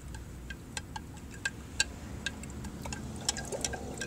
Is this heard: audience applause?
no